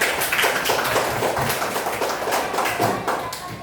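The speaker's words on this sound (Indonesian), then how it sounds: "kita beri aplaus kepada kelompok 2" Applause for group 2 at the end of a presentation: a dense, steady wash of many hands clapping at once, fairly loud, with faint voices underneath.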